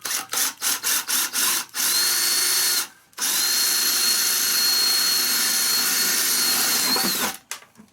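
A power drill bores holes while a portable recirculating sluice box is being built. Several short bursts come first, then two long, loud, sustained whines with a brief pause between them.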